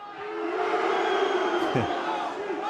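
A football crowd at a Wrexham v Guiseley match jeers a player, a loud, sustained mass of voices swelling over nearly three seconds, with one brief whistle-like rise partway through.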